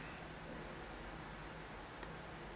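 Heavy rain on a highway during a long motorcycle journey, a dense, even hiss of falling water filling the short stretch at a faint, constant level with no voices.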